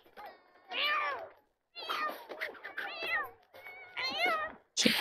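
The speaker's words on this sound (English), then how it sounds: "Oh! Cat fight! Literally." Cats fighting in The Sims 4, a run of loud, close, drawn-out meows and yowls in several bursts separated by short pauses, sharp and wavering like a scrap between two cats.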